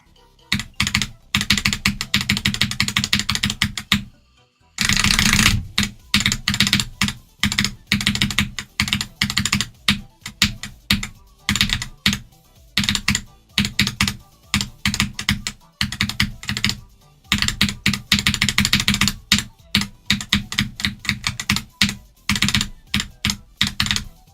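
Rapid bursts of typing on a Corsair K55 computer keyboard, close and loud, in dense clattering runs broken by short pauses, with no talking.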